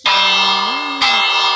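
A Minecraft bell rings twice as it is placed in a village build, each strike loud and sustained with a long shimmering decay, the second stroke landing about a second after the first.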